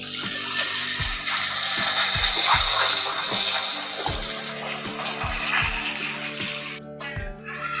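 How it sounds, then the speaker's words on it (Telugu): Water pours steadily into a pot for rice rava upma with a broad rushing splash, steady and close, with a few soft clinks in the background. "ఇప్పుడు వాటర్ వేసుకుందామండి"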